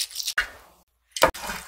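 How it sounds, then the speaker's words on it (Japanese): Sake sprinkled over grilled kabayaki eel to rinse off the sauce, giving short wet splashes and drips in two bursts separated by a quiet gap, close and fairly soft. "酒を振りかけてタレを洗い落とす。"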